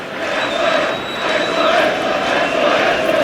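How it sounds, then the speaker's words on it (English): Boisterous cricket crowd at an England v India Test match, a steady loud wash of many voices and general stadium murmur with a faint sustained whine running underneath, continuous throughout with no single standout shout. "Crowd still boisterous. Perhaps increasingly boisterous, actually, if I'm honest."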